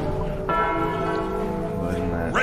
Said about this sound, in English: Ring the bell to signal them to fire.